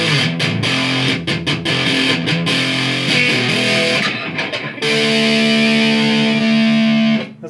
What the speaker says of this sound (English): You can really crank it up, the distortion.